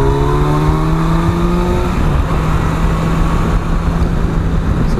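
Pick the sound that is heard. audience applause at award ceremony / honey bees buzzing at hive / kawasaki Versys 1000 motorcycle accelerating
kawasaki Versys 1000 motorcycle accelerating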